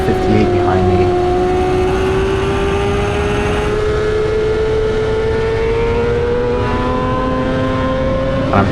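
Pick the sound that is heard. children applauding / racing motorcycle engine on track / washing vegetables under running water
racing motorcycle engine on track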